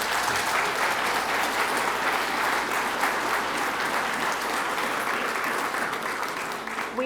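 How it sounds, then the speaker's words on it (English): An audience applauds the Ward 2 candidates at a St. Stephen mayoral and council candidates forum, sustained even clapping from a modest crowd that holds steady and tapers slightly at the end. "Round of applause for everybody."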